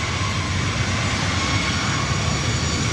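A United jet airliner takes off from runway 24 right at LAX, its engines producing a loud, steady roar that fills the air without a break.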